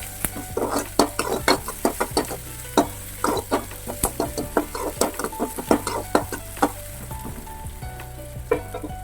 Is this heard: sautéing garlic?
yes